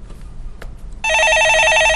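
A telephone bell rings loudly and steadily during a radio call-in show, its trill starting abruptly about halfway through and continuing without pause over low background hum.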